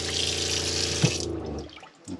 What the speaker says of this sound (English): I'm just giving the sink a good wash round.